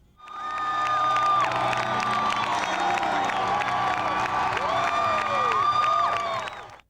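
A friendly home crowd at a college basketball game in the Convo cheers loudly and steadily, with whoops and shouts over clapping for nearly seven seconds before fading out at the end.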